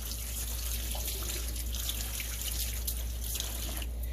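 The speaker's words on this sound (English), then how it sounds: "Let me rinse my hand off." Water runs steadily from a kitchen tap while a hand is rinsed under it, a constant close splashing hiss with no talk.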